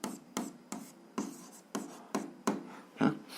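A pen scratches out an algebra equation by hand in about seven quick, rhythmic strokes, each a soft, close scrape with short pauses between.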